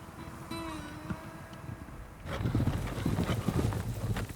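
Wild mustang horses move off, hooves clip-clopping in an irregular patter that grows louder halfway through, with a faint whinny-like tone early on.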